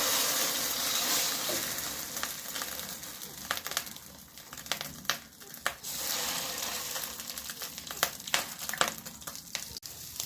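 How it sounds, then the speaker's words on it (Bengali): Spiced fish roe, coated in salt, turmeric, chili, cumin and coriander powder, frying slowly in a pan: a steady oily sizzle with occasional sharp pops and scraping clicks, moderately close, with no voices. "মাছের ডিমটা আমি আস্তে আস্তে ভেজে নেব"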